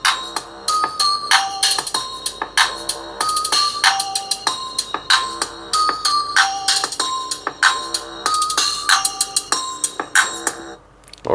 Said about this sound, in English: And this is how the Poco F3 would sound.